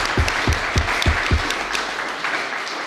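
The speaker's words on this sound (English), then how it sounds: "So a round of applause again" An audience at a pre-election talk on Ukraine gives a round of applause, a broad ongoing clatter with a few heavy, evenly spaced claps thudding close by before fading out.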